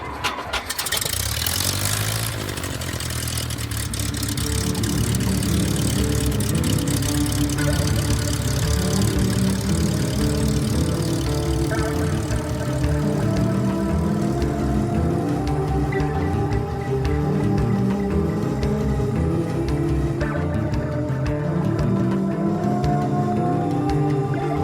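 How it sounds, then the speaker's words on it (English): A propeller airplane engine cranks with sputtering pops, catches, and settles into a loud, steady droning run that fills the whole stretch, close and continuous with no talk over it. "Clear prop."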